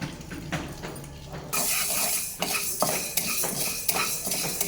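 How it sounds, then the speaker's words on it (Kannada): Green gram is dry-roasted and stirred in a pan, giving close scraping and rattling strokes of a utensil against the metal, with louder, denser stirring in the second half. "ಹೆಸ್ರು ಕಾಳನ್ನು ಬಾಂಡ್ಲಿಗೆ ಹಾಕ್ಬಿಟ್ಟು ಚೆನ್ನಾಗಿ ಘಮ ವಾಸನೆ ಬರೋವರೆಗೂ ಹುರ್ಕೊಳ್ತೇನೆ"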